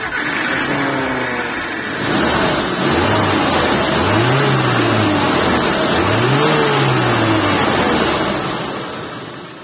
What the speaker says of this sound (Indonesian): Sekarang kita pengen coba start up si Suzuki Escudo ini.